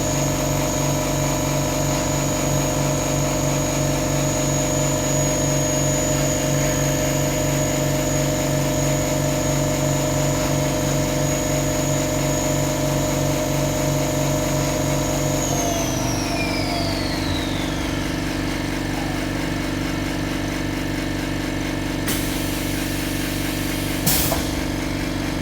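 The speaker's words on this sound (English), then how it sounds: "Air compressor's running pretty hard." An air compressor runs hard in a machine shop beside an Optimill F80 mill, a steady loud mechanical drone with a sustained whine that shifts partway through and a brief clatter near the end, with no talking.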